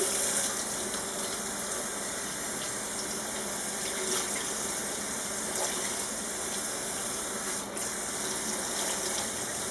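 Cool tap water runs steadily over hand-dyed cross stitch fabric being rinsed in a sink, a continuous close gushing hiss with no voices.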